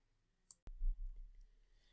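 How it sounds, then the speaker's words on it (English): A single sharp computer mouse click on an upload button is followed by a short low thump and faint desk handling noise in an otherwise quiet room. "simply by clicking that upload button, it will upload the version of it that I've been working on back to the originating job"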